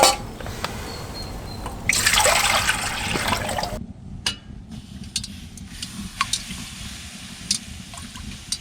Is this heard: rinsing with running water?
yes